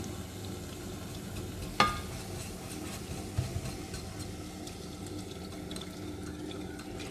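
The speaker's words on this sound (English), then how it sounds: "now, are you adding now the bouillon?" Bouillon poured into a hot pan while making pork schnitzel with creamy mushroom sauce: a steady close sizzle with faint bubbling, a sharp clatter near the start and a few small knocks later, no talking.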